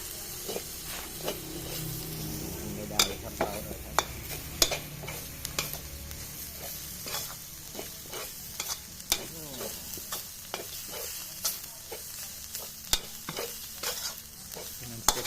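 Field rat stir-fried with holy basil over high heat in a Thai spicy stir-fry: steady loud sizzling in hot oil, broken by frequent sharp scrapes and clacks of a spatula against the pan, with no talk.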